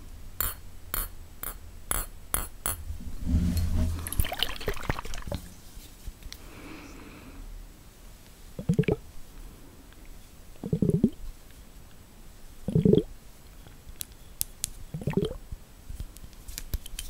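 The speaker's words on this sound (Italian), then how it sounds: "Sono proprio delle ampolle, solo chiuse, con dell'acqua dentro." Sealed glass ampoules holding water are handled close to the microphone, giving soft sloshing, squishy liquid movements in separate bursts, with a few sharp clicks and taps at the start.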